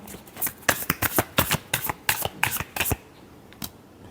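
Tarot cards being shuffled by hand, a rapid run of crisp riffling snaps close to the microphone for about three seconds, followed by a single soft tap.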